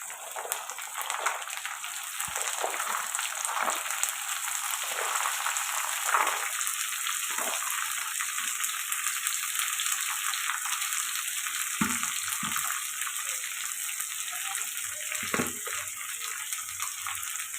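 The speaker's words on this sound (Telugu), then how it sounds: "చిక్కుడుకాయలు వేసుకున్నా ఇలా ఫ్రై అవుతున్నాయి కదండి" Chopped flat beans and onion frying in a pan for a bean and tomato curry, a steady close sizzle with occasional stirring scrapes and no voices.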